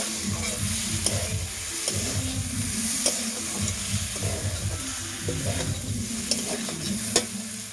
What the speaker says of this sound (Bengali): ভালো করে ভাজার পরে দিয়ে দিতে হবে সে ভেজে রাখা আলুগুলোর সঙ্গে ভালো করে ভেজে নিতে হবে।